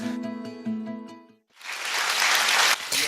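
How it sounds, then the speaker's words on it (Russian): A studio audience at a talk show bursts into loud, dense applause that holds steady for over a second, following a brief passage of tonal music. "Аплодисменты и от вас тоже"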